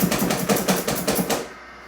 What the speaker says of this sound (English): I'm just chopping these up with the food chopper.